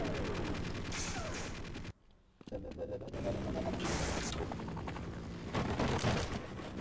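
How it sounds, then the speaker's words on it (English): Gauss rifle fire in Half-Life: dense, loud crackling bursts of weapon discharge fill most of the stretch, broken by a brief near-silent gap before the firing resumes. "Alright, now we can use our Gauss cannon, Gauss rifle."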